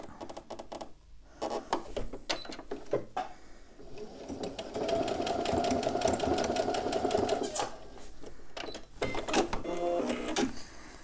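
A sewing machine stitches a Strike bag in rapid, steady bursts. The close, loud mechanical chatter starts and stops, with longer continuous runs in the middle and short pauses between stitching passes.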